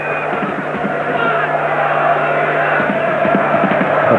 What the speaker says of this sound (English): The crowd not so noisy as they were in the opening 5 minutes.